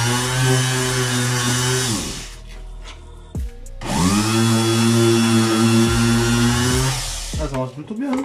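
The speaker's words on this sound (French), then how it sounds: "Voilà la ponceuse avec quoi je vais l'utiliser." A power sander whines loudly with a steady harmonic drone while refinishing a KTM 125 SX motorcycle, cuts out briefly in the middle, then starts up again and runs on.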